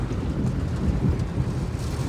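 Heavy, steady rain pours down during a three-day downpour, a dense wash of noise with low rumbling that suggests thunder, constant and close throughout with no voices.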